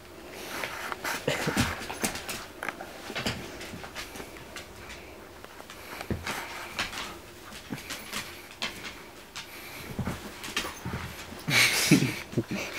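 A dog whimpers and whines in soft, broken bursts with panting and shuffling nearby, a higher squeal near the end, fairly close.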